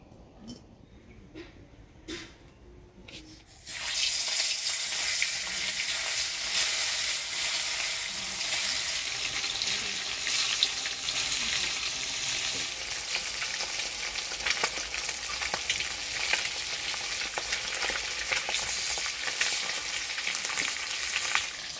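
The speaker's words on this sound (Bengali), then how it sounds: "ডিমগুলো হলুদ লবণ দিয়ে মাখা নিলাম, এবার ভাজে নিব।" Eggs coated in turmeric and salt frying in a pan, quiet handling at first, then a sudden loud burst of sizzling that settles into a steady, crackling fry lasting to the end.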